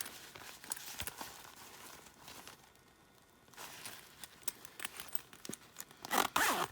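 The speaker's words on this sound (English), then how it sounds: "here there are two zippers, one for the bigger pouch and one for the smaller pouch." Zippers on a pencil pouch from a stationery subscription box are pulled open in several short rasping bursts, quiet at first and then louder and denser near the end, with no voices.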